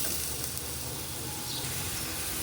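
Whole fish dropped into a simmering mustard gravy in a Bengali home kitchen, giving a steady close sizzle and bubbling hiss that runs evenly throughout.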